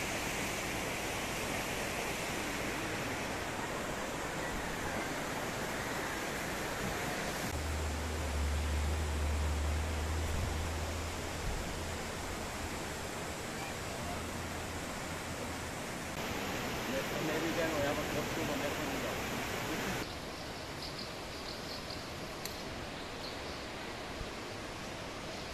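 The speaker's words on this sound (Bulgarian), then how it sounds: "Рекичка." Small stream of spring water running over stones at Garni, Armenia, a steady broadband rush of flowing water that carries on throughout, with a low hum joining midway.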